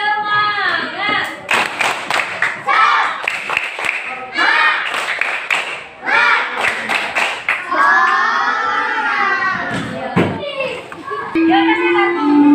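Schoolchildren in a classroom perform a tepuk semangat chant, bursts of rhythmic group clapping alternating with loud sung and shouted young voices, close and lively.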